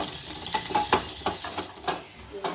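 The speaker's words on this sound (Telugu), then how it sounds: "బాదం నెయ్యి వేయించుకున్నాం మొత్తం" Almonds fry in hot ghee, giving a steady close sizzle broken by repeated scraping stirs at an uneven rhythm.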